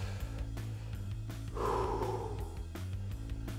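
A single forceful exhale with a breathy, hissing rush, lasting about a second midway through, during a bodyweight general physical preparation exercise. Steady background music runs throughout and no one speaks.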